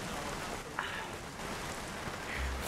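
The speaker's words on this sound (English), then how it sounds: "Why is the rain so loud?" Rain in the Nintendo Wii Bee Movie game, a steady faint hiss of falling drops with a few brief spatters, heard alone at low level.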